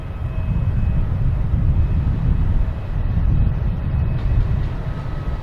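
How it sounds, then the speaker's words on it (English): A JetBlue Airbus A220 taking off at Boston Logan Airport, a steady, loud low roar of jet engines that holds for several seconds without letting up. "We got a JetBlue taking off,"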